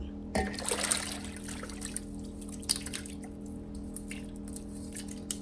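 Boiled pork skin is rinsed in cold water, with close, quiet drips and trickles and a brief splash near the start.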